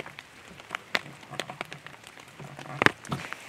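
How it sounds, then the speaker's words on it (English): Rain falls at a hammock campsite in Pinegrove, with irregular raindrops pattering and tapping close by on wet surfaces, soft and scattered with occasional sharper drips. "Sucks you guys can't really tell other than the noise of the rain."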